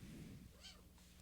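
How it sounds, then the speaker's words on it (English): A pet cat lets out a single short meow, faint and set against a low background rumble. "Our cat's meowing."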